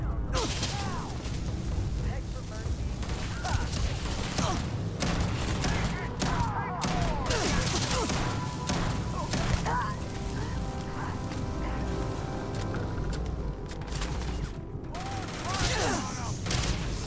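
Shotgun fire and combat noise from the video game Starfield fill a dense, continuous game soundscape, with blasts and mechanical effects layered under a steady mix of music and action sounds.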